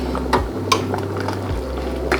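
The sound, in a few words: hot water poured over vegetables and buckwheat in a pot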